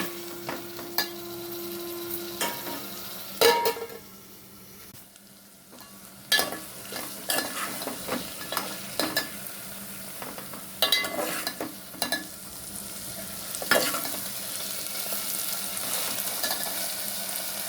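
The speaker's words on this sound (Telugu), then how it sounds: "ములక్కాడ వేసేసుకున్నామండి." Potato and drumstick curry fries steadily in a pan, a continuous sizzle broken by repeated sharp scrapes and clinks of stirring, fairly close, with no talking.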